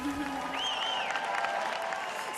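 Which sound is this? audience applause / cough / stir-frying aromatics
audience applause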